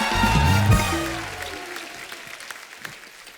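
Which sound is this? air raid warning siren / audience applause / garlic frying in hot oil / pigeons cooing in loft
audience applause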